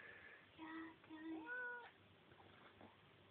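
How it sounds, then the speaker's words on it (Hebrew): A domestic cat that has just caught a mouse indoors gives a few rising, drawn-out meows in quick succession, fairly quiet and slightly distant, then falls silent. "זה חתול מוכשר, אתה תאמין לי."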